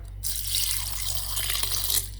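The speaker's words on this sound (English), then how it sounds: "add a little bit of water" Water runs steadily from a tap for a Kerala fish curry spice paste of whole chilies and spices, a continuous close splashing stream that starts abruptly and lasts about two seconds over a low electrical hum.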